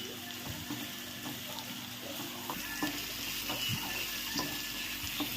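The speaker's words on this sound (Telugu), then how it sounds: "ఆయిల్ వేసాను, ఉల్లిపాయ ముక్కలు వేస్తున్నానండి. ఉల్లిపాయ ముక్కలు బాగా వేగాలండి." Onion pieces frying in oil in a pan for egg curry, a steady close sizzle with soft stirring and scraping clicks scattered throughout, growing slightly louder toward the end.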